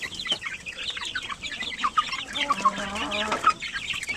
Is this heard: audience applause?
no